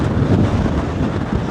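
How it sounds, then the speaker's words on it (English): Wind gusting outdoors around sunrise, a steady low buffeting rush close to the microphone. "yeah, it looks windy"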